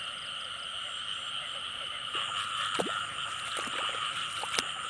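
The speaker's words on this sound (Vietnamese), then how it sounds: "Ếch kêu quá kêu rồi cả nhà ơi." Frogs croak repeatedly outdoors at night beside water, with a steady dense chorus of insects or frogs underneath and several louder, nearer calls standing out toward the end.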